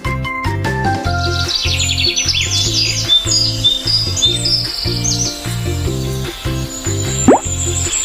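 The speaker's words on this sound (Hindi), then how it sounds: "चे से चिड़िया, चिड़िया बोली।" Cartoon bird chirps and twittering calls ring out high above a steady, bouncy children's music backing, with a brief rising whistle near the end.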